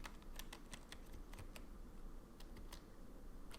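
Keys clatter on a computer keyboard in quick irregular bursts, a steady run of close, light clicks over a low background hum.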